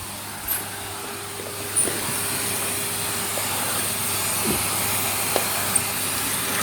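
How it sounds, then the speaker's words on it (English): A Henry Hoover vacuum cleaner runs steadily after a repair to its inner contacts, a constant loud airy whine and hiss with a few small knocks and clicks along the way. "We have a Hoover, and it's working good."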